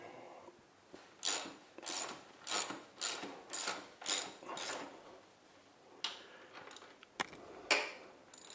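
A ratchet clicks through repeated strokes while loosening the motor mounting bolts of a 1984 Yamaha Virago XV750 motorcycle, about eight quiet, evenly spaced bursts of rapid clicking, then a few looser clicks.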